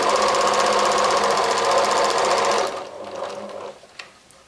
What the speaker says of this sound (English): I'm just going to sew the squares together with a 1/4 inch seam